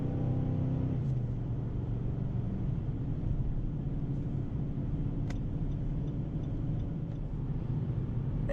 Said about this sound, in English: here we are accelerating onto an entrance ramp for the interstate